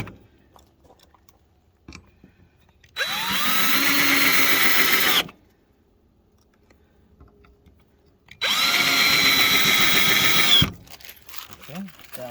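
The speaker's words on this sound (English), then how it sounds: "drilling them down in" A power drill drives screws into a firewood rack in two sustained whirring bursts of about two seconds each, loud and close, separated by quiet handling noises.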